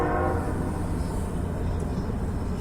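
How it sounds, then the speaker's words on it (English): A train passes close by, a loud steady rumble and rattle of rail cars rolling past throughout, with no voices over it. "Can you hear the train?"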